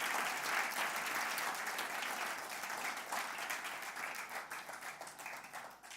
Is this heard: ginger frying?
no